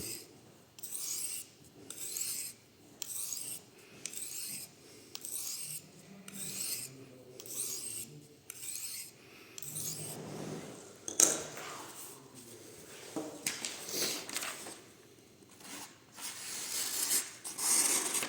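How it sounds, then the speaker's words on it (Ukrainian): A Japanese natural Nakayama Kiita sharpening stone is dressed against boron carbide, giving close, quiet rasping strokes in a steady back-and-forth rhythm that continues throughout. "Зараз я об карбід бора його підправлю."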